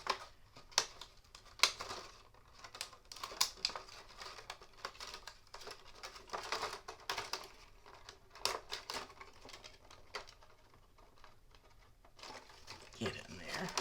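A clear acetate sheet is snapped loose along its cut slits during a craft project, producing a quiet run of sharp crackles and crinkles, with brief snaps scattered through a low, steady background.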